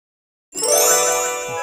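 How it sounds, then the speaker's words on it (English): A single bright bell chime rings out abruptly after a brief silence and then sustains with a shimmering, slowly fading tone, heard alone. "Bell."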